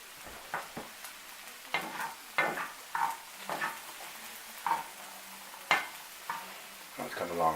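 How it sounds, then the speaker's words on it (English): Pasta shells stirred in a pan on the stove give a series of scraping, clattering strokes at an uneven rhythm over a faint background sizzle, close and moderately loud, with no talking. "And stir up the pasta shells a little bit more."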